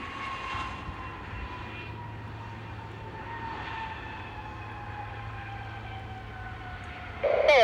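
An airplane at Buffalo airport gives off a steady, droning engine roar that holds level and fairly loud throughout, swelling slightly near the end.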